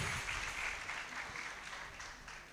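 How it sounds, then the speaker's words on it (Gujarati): Audience applause for three musicians and two singers at a Guru Purnima gathering in Himmatnagar, a faint, continuous patter of clapping that slowly tapers off. "એમના માટે આપણે જોરદાર તાળીઓથી એમનું અભિવાદન કરીએ"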